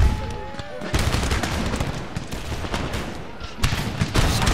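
Grenadiers firing a musket volley in Empire: Total War, a loud crackling spread of many shots followed by rolling booms, then a second burst of gunfire near the end, close and heavy.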